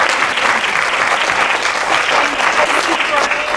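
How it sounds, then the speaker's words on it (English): Loud, sustained round of applause from an audience for a panel speaker at the close of an education discussion event, dense and even clapping with some voices mixed in. "can we give Brandon a round of applause?"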